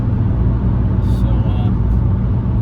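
Steady broadband road and engine roar from inside a 1997 Mercedes E290 turbodiesel with a 5-speed manual, cruising at about 140 km/h in heavy traffic, loud and continuous with brief faint higher whooshes passing through.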